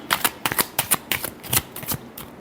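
Tarot cards being shuffled by hand in quick riffling bursts, about a dozen crisp flutters spaced irregularly over a couple of seconds, close and clear with no talking.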